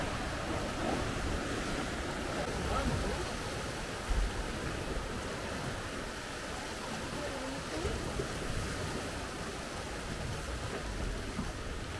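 Sea waves rolling in and splashing up along the shore at Las Palmas, Gran Canaria: a continuous broadband wash of surf with wind noise, one brief louder splash about a third of the way in.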